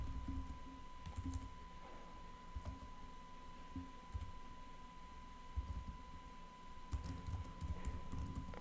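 Keys clatter on a computer keyboard in scattered short bursts over a steady low hum, with a faint continuous tone underneath, at a moderate, fairly close level.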